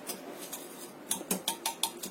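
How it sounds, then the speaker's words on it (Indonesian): A spoon stirs cookie dough with sugar and vanilla in a bowl, giving soft scraping strokes followed by a run of quiet clinks and taps against the bowl's side, close and faint. "Kita aduk sampai rata"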